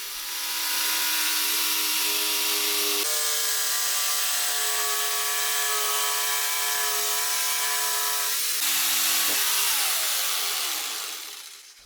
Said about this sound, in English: And now, with both the plywood and the jigsaw shoe against the fence, I cut the plywood sheet.